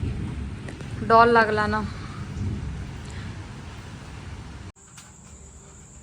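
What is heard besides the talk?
heavy rain, wind and thunderstorm in Rourkela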